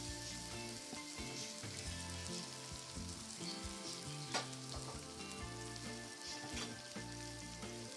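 Pre-boiled HMT rice stirred into frying vegetables in a pan for veg pulao, giving a constant dense sizzle with a faint scrape now and then, no talking.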